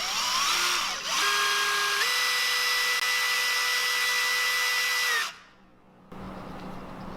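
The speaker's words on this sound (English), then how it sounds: "So if this drill bit goes in, I'm going through that lip tab" Power drill boring through the lip tab of a handmade wooden fishing lure, a loud steady whine that steps up in pitch partway through, runs for about five seconds, then cuts off abruptly.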